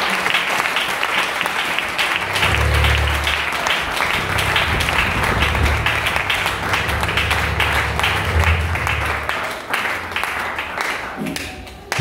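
A church congregation claps and cheers in praise at a French-speaking worship service, a dense, continuous wave of applause filling the room with a low murmur of voices underneath, slowly thinning toward the end.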